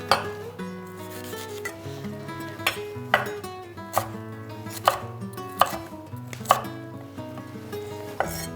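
A knife chopping a bell pepper on a cutting board, a series of about nine crisp knocks at an uneven, unhurried pace, close and clear with no talk.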